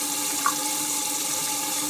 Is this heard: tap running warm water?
yes